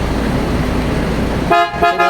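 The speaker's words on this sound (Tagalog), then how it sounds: "PIAA Superior Bass Horn Deep Bass Tone" A PIAA Superior Bass car horn sounds in two short, loud blasts with a deep, buzzy tone, following a stretch of steady engine and road noise.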